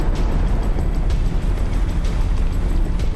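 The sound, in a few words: volcanic eruption explosion in Japan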